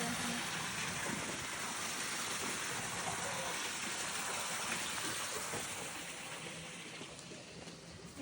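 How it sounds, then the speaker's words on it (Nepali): Clean water rushes steadily through irrigation channels beside farm fields in Japan, a continuous broadband wash that fades slightly toward the end, with no voices. "ठुलोहरू हेर्नु कति सफा पानी आइरहेको छ।"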